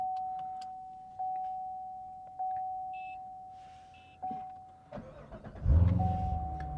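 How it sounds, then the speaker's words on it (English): Several short electronic beeps ring out over quiet hum before a 2014-2019 Chevrolet Corvette with an Igla PIN security system cranks and fires up near the end, its engine catching with a low, close rumble. "Car fires right up."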